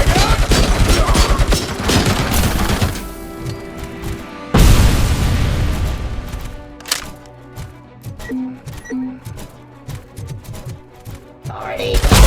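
A grenade blast and gunfire in the Robocop: Rogue City video game: a dense, loud burst of rapid shots, then a heavy boom, then scattered shots and impacts fading off, with voices mixed in.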